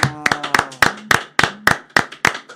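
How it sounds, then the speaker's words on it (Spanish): Claps ring out in a sharp, irregular burst of about ten loud strikes, close and uneven, as an audience welcomes a guest onto a radio show. Faint voices sit underneath. "Tenemos aquí recibiendo un fuerte aplauso a David Mann"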